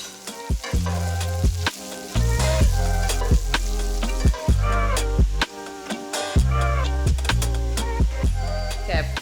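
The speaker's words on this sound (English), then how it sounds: "saute up some of my favorite sausage that I love so much and eat probably too many times a week" Butcher Box pork breakfast sausage sizzles and fries steadily in a pan, a close, loud crackle broken by several brief stirring scrapes and clatters, with no one talking.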